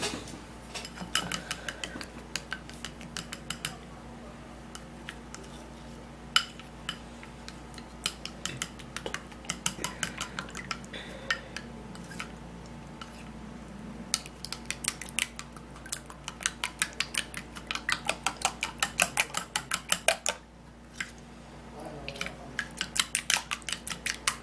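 A homemade skin cream mixture being stirred and mixed, rapid clicking and scraping of a utensil against a container in uneven bursts, close and fairly quiet over a low steady hum.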